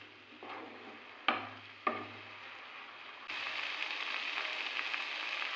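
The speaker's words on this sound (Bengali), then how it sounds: "মশলাটা প্রায় ভাজা ভাজা হয়ে এসেছে।" Spice paste with green chillies sizzles and fries in a pan, a steady close hiss with a couple of sharp clinks from stirring, swelling louder toward the end.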